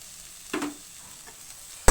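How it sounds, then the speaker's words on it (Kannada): Chili, coriander, pepper powder and paste fry in a hot pan for momos, giving a soft hiss with a couple of sharp stirring scrapes close by. "ಈಗೆಲ್ಲ ಕೂಡ ಇದನ್ನು ಫ್ರೈ ಮಾಡ್ಕೋಬೇಕು."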